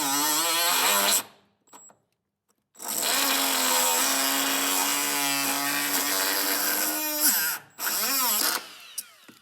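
A power tool whines loudly in long close bursts, cutting off a part on an abandoned 1974 Ford F250 Custom pickup with a 390 V8, pausing briefly between runs as the pitch wavers under load.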